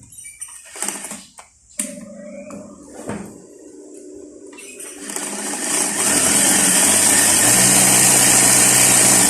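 A sewing machine's bobbin winder that fills the thread on only one side: a few clicks and knocks, then a loud, steady motor whir starts and runs without a break, with no voices.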